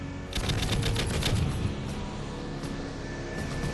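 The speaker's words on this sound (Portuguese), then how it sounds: "Dispare tiros de advertência." Fighter jet cannon firing warning shots in a dramatized air disaster reconstruction, a rapid rattling burst of rounds followed by continuing mechanical roar, fairly loud.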